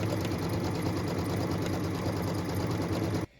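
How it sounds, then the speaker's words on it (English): A sewing machine runs steadily, stitching the final outline around a quilt block, a close, continuous motor drone with fast needle rhythm that stops abruptly at the end. "What we're stitching now is that final outline around the whole block, which doubles as our cut line."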